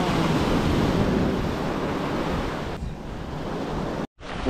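Ocean surf washes steadily onto Friendship Beach in the Caribbean, a continuous broad roar with wind noise on the microphone that briefly cuts out near the end.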